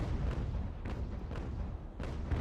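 Ship cannons firing in a naval battle in Ultimate General: American Revolution, a dense rumbling barrage with repeated booming shots landing close together, loud and continuous with no pauses.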